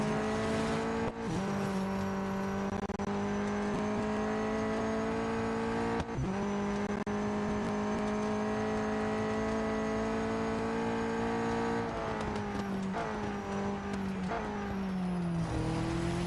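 Race car in Real Racing 3 roaring through the final lap at Monza's Parabolica and down the straight: a loud sustained high engine whine with shifting pitch and abrupt gear-change breaks, plus faint tire noise, no talk.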